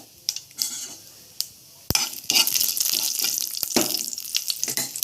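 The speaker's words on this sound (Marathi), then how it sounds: "आता कढीपत्ता घालून घ्या" Curry leaves drop into hot oil with already popping mustard seeds, and an abrupt loud sizzle flares up and keeps crackling close by, with a few scraping stirs before it.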